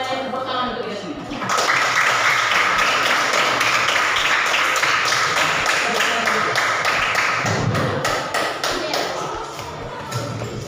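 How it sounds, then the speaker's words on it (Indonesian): Sustained applause from a group in a teacher-training classroom session, a dense wash of clapping that starts abruptly and continues steadily for several seconds before tapering slightly. "tepuk tangan untuk kita semua"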